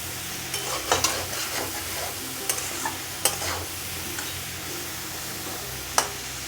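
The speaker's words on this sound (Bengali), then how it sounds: "এটাকে ভালো করে মিশিয়ে নেব।" Parshe fish with cauliflower and potato is stirred in a pan, irregular spatula scrapes and clinks over a soft, steady sizzle.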